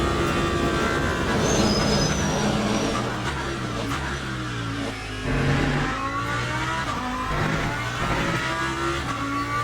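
Race car engine of a McLaren in the Le Mans Ultimate racing game, a steady loud roar with shifting engine tones and a downshift under heavy braking, other cars' engines blending in throughout.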